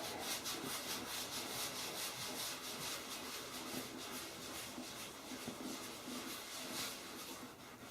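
A cloth rubs conditioner into a leather whipping post in continuous, soft, close-up swishing strokes, a faint, steady friction texture with gentle rhythmic surges and no talking.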